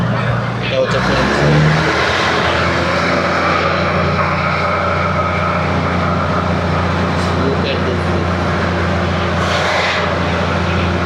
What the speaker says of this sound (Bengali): এই যে আমাদের ট্রেন ছেড়ে দিয়েছে